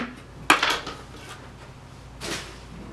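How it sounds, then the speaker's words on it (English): A kitchen knife cuts an onion into thin slices for Cincinnati chili, giving two sharp knocks against the cutting board with soft scraping between them. No talking. "Do a little bit of slicing here, getting the slices rather thin"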